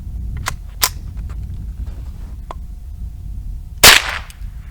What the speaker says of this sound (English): we're going to see if that translates into any more damage on a brick with 22 long rifle